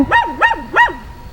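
A dog barks three times in quick, evenly spaced, loud yelps near the listener, with no talking over them.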